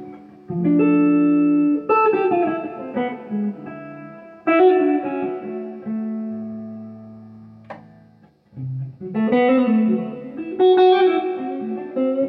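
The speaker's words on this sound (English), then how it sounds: "like the humbucker tones, really dark" Electric guitar through humbucker pickups with a dark, warm tone, played as a run of sustained notes and chords with effects and reverb, then a short pause before the phrases resume.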